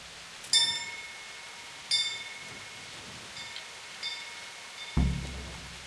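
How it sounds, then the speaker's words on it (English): Two bell strikes from Kingdom Come: Deliverance with bright ringing overtones that fade, followed by fainter chimes, set against steady background rain and a low thud near the end. "Okay, here's the bell. Right here. Let's ring it."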